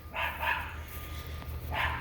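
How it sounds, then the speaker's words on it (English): A noisy puppy behind a fence on a homestead barks three times, two quick yaps close together and then one more after a pause, fairly loud and near. "Barks at me every time I walk by the fence."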